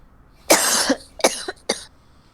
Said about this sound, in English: I need to cough one moment.